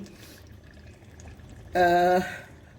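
Bone stock being poured into a cooking pot makes a brief loud splash and glug of liquid, lasting well under a second after a stretch of quiet kitchen background.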